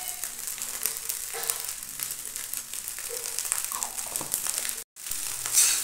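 Rice with pepper and salt being stirred in a frying pan, giving a soft continuous sizzle with scraping and rustling from the spatula, close and fairly quiet, with a brief cut partway through.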